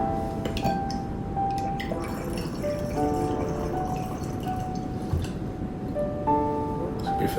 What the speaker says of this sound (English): So I'm gonna go ahead and pour this up.